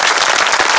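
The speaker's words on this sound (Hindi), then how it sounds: "तालियां" A dense burst of audience applause fills the brief moment, many hands clapping at once in a loud, continuous wash.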